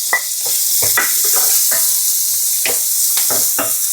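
Onion sizzling loudly in hot oil in a pan for shrimp fried rice, a constant crackling hiss broken by repeated scraping and stirring strokes of a utensil, close up and with no talk.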